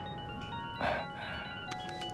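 A telephone rings in a quiet room, a faint electronic ringtone with a short melodic burst near the middle, and nobody speaks.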